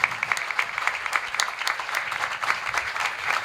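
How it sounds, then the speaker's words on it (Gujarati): An assembled audience at a temple anniversary session claps for a speaker, a lively, steady round of applause from many hands that stays fairly even from start to finish. "તો વક્તાને વધાવો એકવાર તાળીઓથી"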